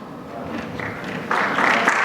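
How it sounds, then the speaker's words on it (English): Audience applause at a corporate panel discussion on performance management, starting soft and scattered, then swelling into fuller clapping partway through. "Can we have a huge round of applause?"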